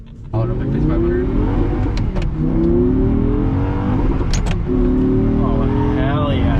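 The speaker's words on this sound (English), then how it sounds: "Nothing better than that V10." Audi R8 with a V10 engine revving loudly and close, a sustained roar with rising and falling pitch sweeps across several throttle blips, with a voice talking over it.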